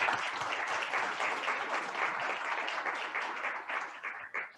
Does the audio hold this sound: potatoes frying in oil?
no